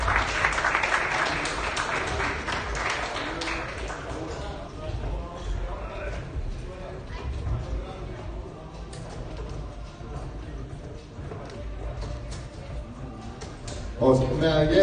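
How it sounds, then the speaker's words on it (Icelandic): Audience clapping at the final of a darts league, a dense round of applause at moderate distance that is strongest at the start, then thins into scattered claps and crowd murmur with voices talking. "Bara gefa þeim líka gott klapp."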